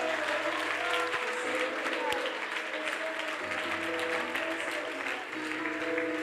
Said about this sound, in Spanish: Demos palmas a Cristo.